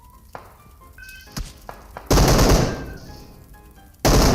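Gunfire in the mobile battle royale game PUBG Mobile, heard as a few sharp shots followed by two loud, sustained bursts of automatic fire, the first lasting about two seconds and the second cutting in at the very end.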